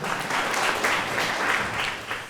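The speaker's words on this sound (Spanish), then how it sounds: "Denle un aplauso al Dieguito" Audience applause for a guest called up at a Christmas-themed talk, steady clapping from many hands through the whole stretch, dense and fairly close.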